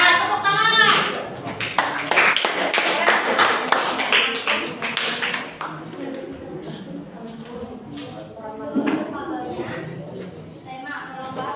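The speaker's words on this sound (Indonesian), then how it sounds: "Nah, tepuk tangan." A group of children clap their hands together in a burst of dense, overlapping claps that fades after a few seconds, with voices talking in the room afterward.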